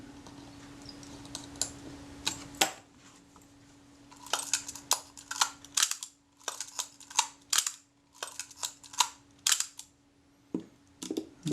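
A Kodak Retina Reflex IV camera under repair for a jammed shutter fires its shutter repeatedly: a string of sharp, close mechanical clacks in uneven rhythm, some spaced apart and others quick in succession, over a faint steady hum.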